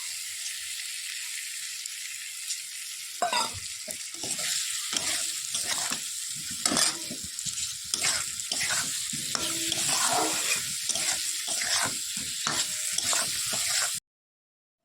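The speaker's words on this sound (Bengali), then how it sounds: "চলো এবার ভালো করে একটু লাল লাল করে ভেজে নিই বেগুনটা।" Eggplant pieces fry in a pan with a bright, continuous sizzle. Repeated scraping stirs break through in uneven bursts, close and loud, before the sound cuts off abruptly.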